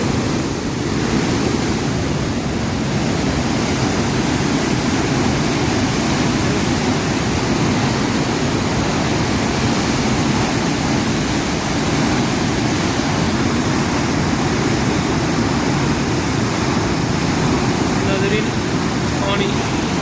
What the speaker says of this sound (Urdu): پانی دا شکاٹ دیکھو، یعنی کہ پانی دی آواز دیکھو کتنا بہت زیادہ آواز آ چکی